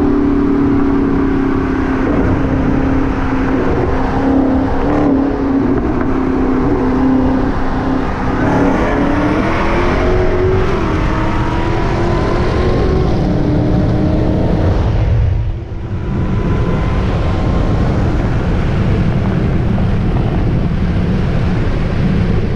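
Two Dodge Hellcats, a Challenger Hellcat Redeye and a Hellcat Charger, drag racing, heard as a loud, steady engine roar with wind buffeting throughout, a brief dip near the end, and no talking.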